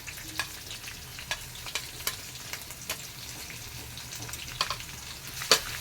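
Chopped garlic and ginger being stirred in a pan while cooking chicken, a soft continuous sizzle with scattered scrapes and taps of a utensil against the pan at irregular intervals.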